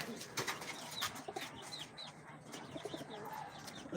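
Pigeons coo softly in a loft of several fancy breeds kept by a hobbyist in hot weather, with faint chirps and a brief flutter of wings, and no talk.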